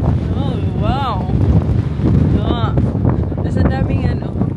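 Wind blowing hard along the coast at Howth, a steady gusty rumble buffeting the microphone throughout, with people talking over it.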